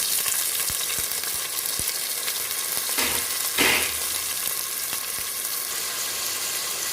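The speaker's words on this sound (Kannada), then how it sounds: "ಇದಕ್ಕೆ ಈಗ ಟೊಮೆಟೊ, ಕಾಯಿ ಮೆಣಸು ಹಾಗೂ ಶುಂಠಿ ಹಾಕ್ತಾ ಇದ್ದೇನೆ." Tomato, green chilli and ginger sizzle with onion in a pan, a steady close frying hiss with brief stirring scrapes and no talking.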